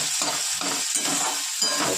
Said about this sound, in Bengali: ভালো করে আগে একটু ভেজে নেব